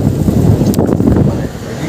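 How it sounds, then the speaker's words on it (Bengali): Loud, blustery wind over water buffeting the microphone with a deep roaring rumble, steady for the whole moment, no voices. "হাওয়াও চলছে প্রচুর"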